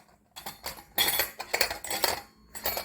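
Small brass and copper prayer vessels for temple worship clink and clatter together in several quick bright bursts, close and crisp, with no talking.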